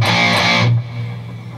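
Palm-muted power chords on a distorted electric guitar, a dense, loud chugging burst of about two-thirds of a second that drops to a quieter ringing, muted tail.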